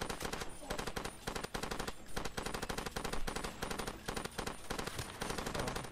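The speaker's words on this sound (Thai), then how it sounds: "ยิงยังไม่ค่อยโดนเลย" Rapid bursts of automatic gunfire in the video game Far Cry 2, loud and dense machine-gun rattling with brief gaps between volleys, filling the full stretch.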